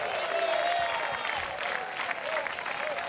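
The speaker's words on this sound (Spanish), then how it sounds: "De repente ese aplauso al Señor en esta hora." A church congregation applauds the Lord during a union worship service of Christian churches in La Unión, El Salvador; sustained, moderately loud clapping with some crowd murmur underneath.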